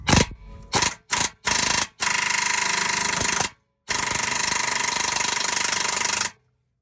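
Impact wrench with a thin chrome socket hammering on a motor mount bolt of a 2017 Nissan Altima 2.5 L, loud close bursts: several short rattling pulses, then two long sustained runs separated by a pause.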